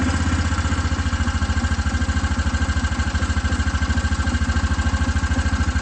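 A Hisun Vector 500 4x4 UTV engine idles steadily and close up with a rough, pulsing rhythm, its revs seeming to dip and recover, with no talk over it.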